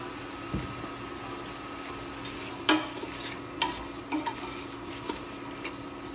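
Apple pie taco filling is stirred in a pan, with a soft steady sizzle under a string of scattered scrapes and clicks from the spoon against the pan.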